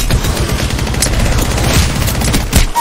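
Rapid automatic gunfire in the video game Apex Legends, a dense, loud burst of shots crackling continuously through the short stretch, with no talk over it.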